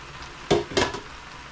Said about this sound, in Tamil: திரும்ப இந்த அரிசியை இந்த சோஸோடு சேர்த்து அப்படியே ஃபுல்லாக மிக்ஸ் பண்ணோம்